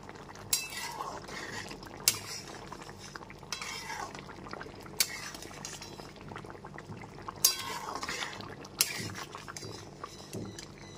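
A spoon scrapes and clinks against a pot every second or so, stirring garam masala into a bubbling yam and potato curry. Soft simmering plays underneath.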